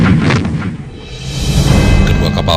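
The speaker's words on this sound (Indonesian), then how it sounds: "RI Macan Tutul dan RI Macan Kumbang melepaskan tembakan dari 2 meriam anti pesawatnya." Heavy anti-aircraft cannon fire from two warships booms and thuds in a continuous loud barrage at sea, with rumbling blasts overlapping throughout.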